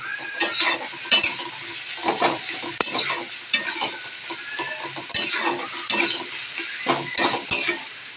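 Taro greens (kochu shak) cooking in a pan, stirred with a utensil in repeated scraping strokes over a continuous sizzle, close and moderately loud, with occasional clinks against the pan.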